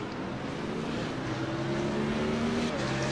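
GT3 race cars in the iRacing sim at Spa-Francorchamps, engines droning steadily at a distance with a sustained whine through the start-finish straight, no talk over it.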